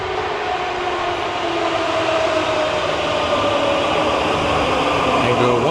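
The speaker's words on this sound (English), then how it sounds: "We are going to take a train" A metro train in Prague rolls along with a steady, loud rumble and rising whine, continuous throughout with no voices.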